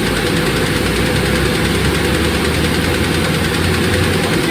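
Car engine idling after its collapsed lifters were replaced, a loud steady close-up drone with a faint rapid ticking vibration running through it, no pauses.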